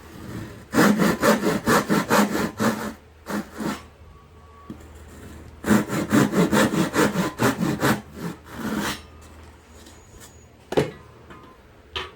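A hand saw cuts wood along a marked line in quick rhythmic back-and-forth strokes, two runs of about a dozen rasping strokes each, close and loud, separated by short pauses.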